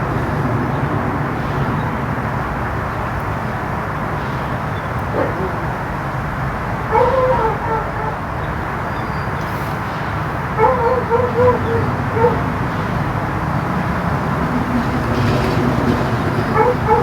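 A dog gives a few short yips and whimpers, faint and brief, over a dense steady background wash that runs through the whole stretch.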